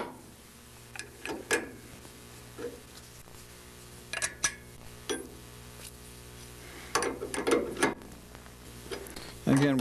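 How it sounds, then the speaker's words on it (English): Wrenches working nuts on a Vans RV6 aircraft kit give scattered metallic clicks, ratcheting and clinks in bursts over about ten seconds, close by, with a steady low hum underneath and occasional speech. "it's just going to take a wrench on both ends and just start tightening them on in now"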